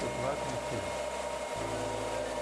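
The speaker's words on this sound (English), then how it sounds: "used my handmade 300-watt heat gun up the paint" Handmade 300-watt heat gun blowing on old paint on wood, a steady airy blower roar with a low hum that shifts in pitch midway, continuous throughout.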